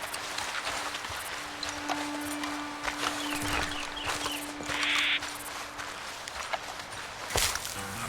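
Horses clip-clop at a steady pace in Red Dead Redemption 2, their hoofbeats moderately close and mixed with outdoor game ambience and small rustles.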